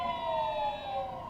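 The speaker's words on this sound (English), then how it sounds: "So, do you want me to wait for the siren?" A siren passes through street traffic, its sustained wailing tones sliding slightly in pitch over a low hum of road noise, fairly loud and heard on its own for a brief moment.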